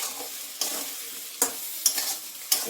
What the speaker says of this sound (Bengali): এখন মশলা দিয়ে যে কষাচ্ছি